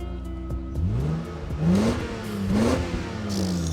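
Toyota 2J engine revved hard from a cold start on a January day, rising and falling through a few throttle blips over a steady idle, close and loud with no talk.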